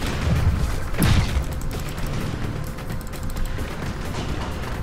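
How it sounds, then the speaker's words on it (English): A bang stick fires underwater while hunting hammerhead sharks, giving one sharp heavy boom near the start, then a muffled wash of water and gear noise. "That's a bang stick."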